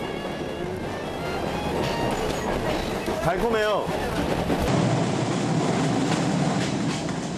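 A passenger train travels through tea plantations toward Nuwara Eliya in Sri Lanka, giving a steady rumble and rattle of carriages with a brief squealing wheel sound partway through, while a person speaks briefly.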